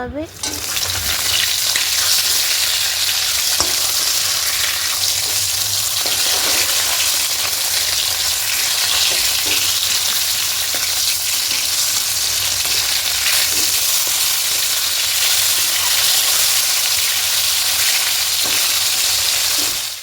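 Loud, steady sizzling of catla fish frying in hot oil, crackling and hissing continuously with occasional stirring clicks, no voices.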